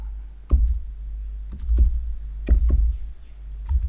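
Keys on a computer keyboard are typed in short bursts, sparse clicks and clacks landing at irregular intervals, close up and fairly quiet.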